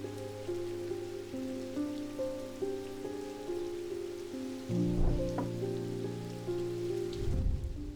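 Rain falls in the video game Strange Antiquities as a steady patter under sustained musical tones, with no one talking.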